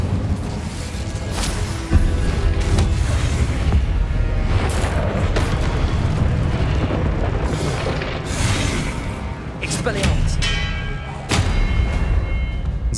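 Fiery spell blasts from Hogwarts Legacy combat, a continuous roar of booming, crackling impacts with repeated thuds and bursts layered under busy game noise throughout.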